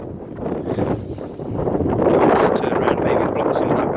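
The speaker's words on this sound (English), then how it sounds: "It was a bit of a nightmare with the wind, as you can hear." Strong wind buffets and roars across the microphone at an outdoor excavation site with dead bracken around. The steady gusty rumble builds slightly louder toward the end, with no speech.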